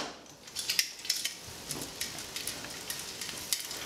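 Tempeh and asparagus get stirred in a pan, with a string of light scraping and clinking utensil strokes over a soft sizzle, close and fairly quiet.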